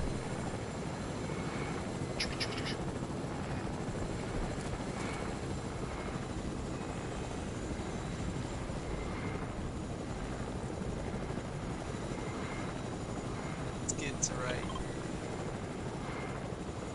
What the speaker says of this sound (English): I'm gonna smack somebody from a helicopter.